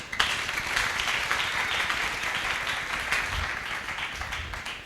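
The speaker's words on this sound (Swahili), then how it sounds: "Tufanye makofi kwa Yesu." A church congregation claps for Jesus during a worship service, a sustained burst of dense applause filling the room from start to finish.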